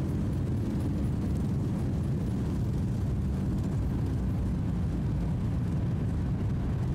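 Thrust reversers deploy on a Boeing 737-800 landing in a flight simulator, producing a loud, sustained, broadband engine roar that holds steady throughout.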